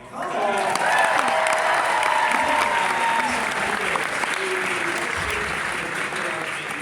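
A large convention crowd at a fan expo panel applauds and cheers continuously, loud and sustained, with a few whoops rising above the clapping.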